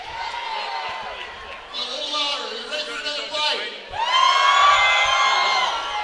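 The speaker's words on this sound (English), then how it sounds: "You hear the cheers from the crowd" Spectators at a fighting championship cheer and whoop between bouts, with shouts rising in waves and a loud surge near the end over a voice speaking.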